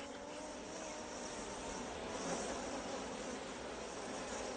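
Honey bees in a beekeeper's garden, a continuous soft hum and buzz with a faint hiss, steady and moderately quiet, with no talk.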